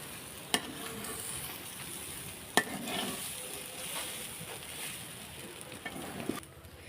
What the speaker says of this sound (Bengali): এভাবে আমি এটা ভালোভাবে নেড়ে ভেজে নেব।